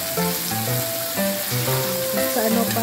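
Daing, dried fish, fries in a pan with a loud, steady sizzle and crackle, while tonal background music plays underneath.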